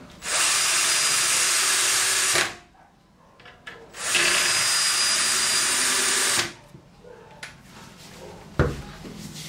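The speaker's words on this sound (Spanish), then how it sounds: "Vamos a seguir atornillando el otro costado que falta." A power drill drives screws into the wooden side of a bathroom cabinet, making two long, steady whirring bursts of a couple of seconds each, with handling knocks and rubbing between them.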